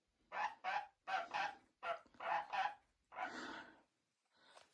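A sun conure parrot gives a series of loud, harsh, raspy squawks close by, in short paired bursts with brief pauses and one longer drawn-out call near the end.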